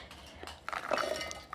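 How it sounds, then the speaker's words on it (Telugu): Cut ginger pieces dropped into a mixer jar, giving a short run of light clinks and rattles against the jar, close and fairly quiet, ending with a small tap. "కట్ చేసుకున్న అల్లాన్ని మిక్సీ జార్లో వేసుకోండి"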